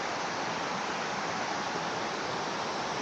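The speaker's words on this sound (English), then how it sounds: "So these waterfalls here are quite beautiful." A jungle waterfall, running low outside the rainy season, gives a steady, close, unbroken rush of falling water that holds the same level from start to finish.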